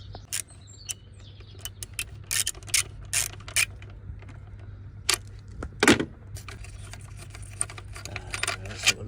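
A ratchet works loose a 10mm bolt on the throttle body of a Range Rover Sport, giving close, bursty clicking and metallic rattles in short irregular runs over a low steady hum.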